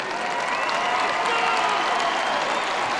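A packed crowd applauds at the PIAA AA state wrestling championship finals, a broad, sustained wash of clapping and murmur filling the arena evenly throughout.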